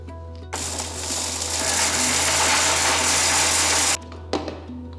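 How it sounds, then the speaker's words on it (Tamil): A mixer grinder whirs loudly for about three and a half seconds, pulverising cooled roasted curry leaf idli powder ingredients in the jar, then stops abruptly, followed by a short rattling pulse. "மிக்சி ஜாரில் மாற்றிட்டேன் இப்போ நம்ம நல்ல பவுடராக அரைச்சிக்கலாம்"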